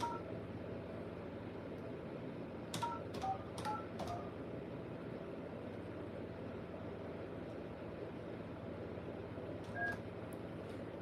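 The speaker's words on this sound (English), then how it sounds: "Now let's go ahead and make the phone call." A short run of telephone keypad tones plays as a sales call is placed, quiet beeps clustered together over a steady low hum, followed by a couple more faint tones near the end.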